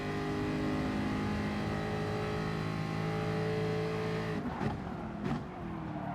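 A BMW M6 race car engine in Gran Turismo Sport drones loud and steady with layered harmonic tones, then drops away near the end into a couple of brief rasping bursts, as if shifting down under braking.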